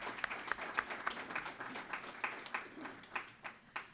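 Faint applause from an audience at a school Veterans Day program, a thin, steady patter of clapping with a few sharper claps, heard at a distance for a few seconds.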